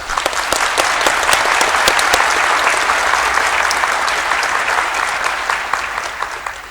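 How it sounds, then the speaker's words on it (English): Sustained, dense applause from a graduation ceremony audience for the graduates, steady and full for several seconds before tapering slightly at the end, with no talk over it. "I request that you join me in applauding our graduates for their significant achievements"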